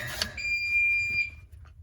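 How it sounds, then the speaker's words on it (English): A gas leak detector gives a single sharp electronic beep for about a second, a clear steady high tone over a quiet background. "I heard a beep."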